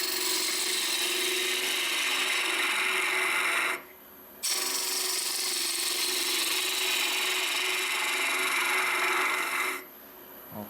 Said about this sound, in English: Again, just using the bowl gouge for as long as I need to.